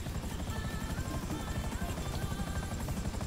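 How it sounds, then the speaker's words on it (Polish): A helicopter in the video game GTA Online gives a loud, steady rotor thrum with a dense low-end beat and an engine whine. It carries on without break, with no voices over it. "Ekipa ładuje się do śmigłowca i uciekamy."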